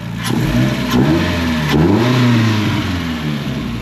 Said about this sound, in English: The camera makes the engine sound worse than what it is